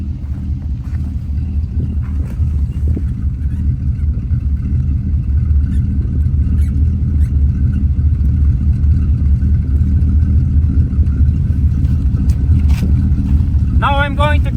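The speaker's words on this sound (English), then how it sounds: "So let's try using the system of the Ural to pump up the tires." A Ural military truck's engine runs steadily to drive its tire-inflation system, a loud, close, continuous low rumble that holds for the whole stretch, with a brief high whine near the end.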